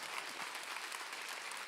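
Applause for the birthday person at a party, a short, faint burst of steady clapping from a small crowd.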